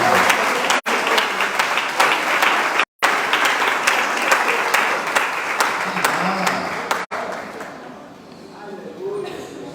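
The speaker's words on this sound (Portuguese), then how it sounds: "dê um aplauso ao Senhor pela vida desse nosso" Congregation at a church service applauds for the Lord: a dense, sustained wash of many hands clapping, steady and loud, broken by a couple of brief dropouts and thinning toward the end, with faint voices mixed in.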